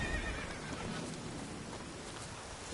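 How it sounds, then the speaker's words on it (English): A horse neighs in a video game, a single whinny set against a steady rain-like ambient wash, fairly quiet and alone without talk. "This is a horse."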